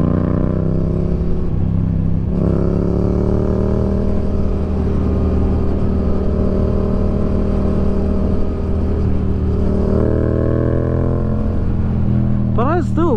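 Yamaha MT-07 motorcycle with Yoshimura exhaust runs loud and close at steady cruising revs, its pitch dipping and rising with gear and throttle changes, with a rider speaking over it.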